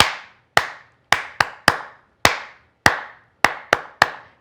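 Hands clapping along to a children's chant, about ten crisp, loud, reverberant claps in an uneven rhythm with short silences between them.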